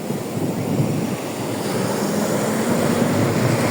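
Sea waves breaking on a sandy beach at night, a continuous loud wash of surf with rumbling wind noise on the microphone, no voices.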